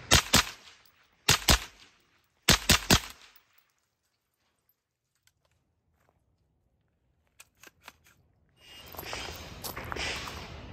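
An S&W Response pistol-caliber carbine fitted with a Banish 45 suppressor and firing 115-grain Blazer aluminum-cased ammunition at the range lets off three sharp, evenly spaced shots. A quiet pause follows, then low rustling noise.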